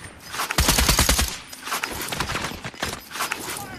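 Video game gunfire rattles in rapid bursts, a loud dense volley of shots followed by two shorter clusters of fire, close and sharp, with no talking over it.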